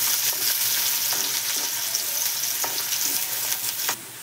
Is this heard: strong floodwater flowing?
no